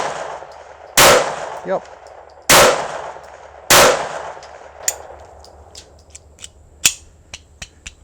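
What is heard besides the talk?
gun firing ammunition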